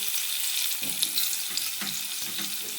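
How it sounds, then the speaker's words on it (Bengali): Potato, papaya and pointed gourd fry lightly in a pan, giving a soft, even sizzle with occasional low scrapes and bumps of stirring, close but fairly quiet, no one talking. "আগে আলু পেঁপে পটলটা দিয়ে নেব একটু হালকা হালকা ভাজবো"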